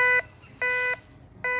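A Ricomax GC-1037 metal detector sounds its tone over a modern pull tab. Three steady electronic beeps ring out cleanly against a quiet background, each lasting about a third of a second with short gaps between them.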